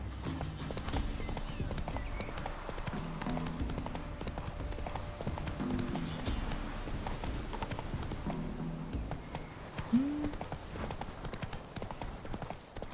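Roach the horse gallops in The Witcher 3, with rhythmic hoof clip-clops running continuously alongside game music, plus a short neigh near the end.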